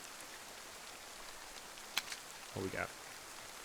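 Rain in the DayZ game hisses as a steady soft wash throughout, with a quick clack and a short spoken question near the end.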